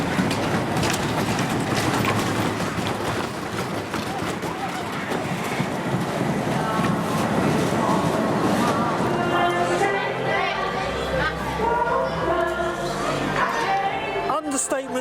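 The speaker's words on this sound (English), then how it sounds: "We're going on the Grand National, one of the most iconic roller coasters in this theme park." Ride on the Grand National wooden roller coaster at Blackpool Pleasure Beach, a loud continuous rumbling roar of the train on the track with screams and voices mixed in throughout.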